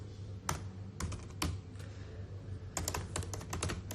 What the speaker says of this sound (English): what is wrong with this person with her terrible typing skills?